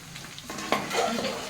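Pre-cooked rice tipped into a hot pan for homemade potato fried rice, a soft thump followed by sizzling and stirring scrapes against the pan, close and moderately quiet.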